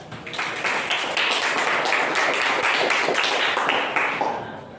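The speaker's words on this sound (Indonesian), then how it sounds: "Oke, kita beri aplaus." An audience in a classroom-style session breaks into applause: dense, steady clapping from many hands that holds for several seconds, then tapers off.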